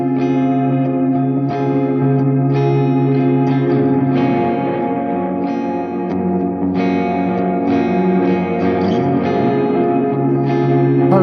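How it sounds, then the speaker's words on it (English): An electric guitar runs through Mystery Brain and Wells delay pedals and a Blood Moon into an AD30 amp: sustained chords ring with heavy echo, shimmering repeats and a thick, slightly distorted tail, with fresh strums every second or two. "what you're hearing is both my delays, the Mystery Brain and the Wells going into"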